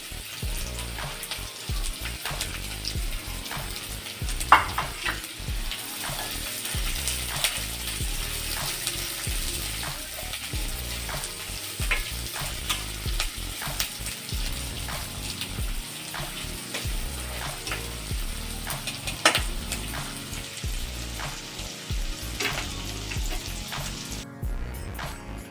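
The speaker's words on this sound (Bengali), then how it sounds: "পেঁয়াজ আমি লাল লাল করে ভাজবো," Onions sizzling in hot oil with garlic and green chili, frying to a reddish brown for a masoor dal and prawn bharta, a steady close crackle with occasional louder pops and stirring, no talk.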